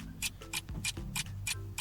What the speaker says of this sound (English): Clock is ticking. I can hear the clock.